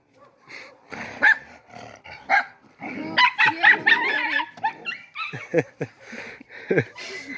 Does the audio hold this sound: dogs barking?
yes